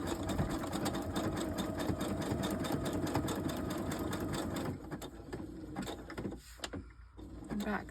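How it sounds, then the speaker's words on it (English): A sewing machine stitches fabric scraps, running in a steady, close, continuous whir that slows and stops near the end with a few brief clicks. "I'm going to do a couple stitches, back stitch, and then just go through."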